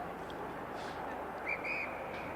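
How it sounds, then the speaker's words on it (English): An umpire's whistle at an Australian rules junior football match in Tasmania gives a short blast followed by a slightly longer one, thin and distant over steady outdoor ground noise. "just blowing the whistle"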